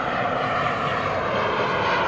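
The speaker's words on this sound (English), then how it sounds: "guess we can't get away from the planes." A propeller airplane drones overhead as a steady, loud engine hum that fills the whole moment, masking other sounds, with no talking.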